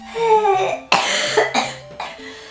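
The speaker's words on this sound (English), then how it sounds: "this is like gonna be a video of me coughing only" A sick young woman coughs in several harsh, close bursts, each followed by a raspy throat-clearing tail, with short gaps between the fits.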